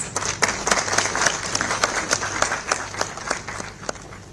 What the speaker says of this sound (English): Please welcome with a hearty applause.